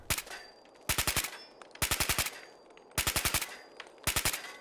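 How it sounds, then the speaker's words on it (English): Repeated bursts of automatic gunfire in Fallout 4, aimed at chains: four sharp, loud volleys of rapid shots, each lasting a fraction of a second, separated by brief pauses with low ambient game noise between them. "I was also asked if I could just shoot the chains"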